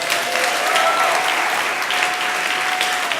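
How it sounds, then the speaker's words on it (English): Audience applause at a talk on brain health, an even, sustained roar of many hands clapping that holds steady at a loud level throughout, with no talking. "Give yourselves a round of applause"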